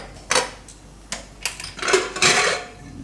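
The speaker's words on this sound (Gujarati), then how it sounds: "આપણે હવે ચણા આપણે બહાર કાઢી લેવું કુકરમાંથી" Metal utensil scrapes and clinks against a pressure cooker several times while boiled chickpeas are taken out, in short, uneven bursts, with brief rustling between.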